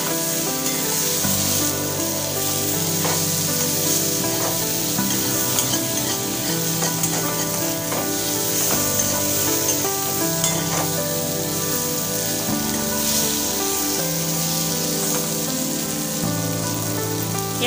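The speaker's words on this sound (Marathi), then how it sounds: "भेंडी व्यवस्थित तेलात परतून घ्यायची" Stuffed okra fries in oil in a pan over medium heat, a steady, dense sizzle with crackling pops throughout, while background music plays underneath.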